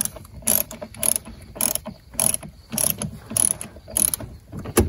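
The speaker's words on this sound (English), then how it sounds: "I just got the torque wrench on the lowest setting to start with." A torque wrench ratchets on its lowest setting while bolts are snugged during a Mk. 4 Volkswagen Jetta windshield and wiper job, giving about nine short, close clicking bursts in a steady rhythm with brief pauses between pulls.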